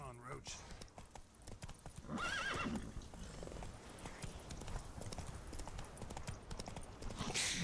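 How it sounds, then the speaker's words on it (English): A summoned horse in The Witcher 3 gallops with rhythmic clip-clop hoofbeats and a whinny, layered with game sounds while someone speaks over it. "Consegui chamar o cavalo, graças a Deus."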